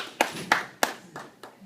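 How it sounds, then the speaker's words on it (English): Scattered hand claps from an audience at a Seventh-day Adventist church event, about five sharp, separate claps spaced unevenly, fairly close and moderately loud, with no talking. "let's give a big round of applause"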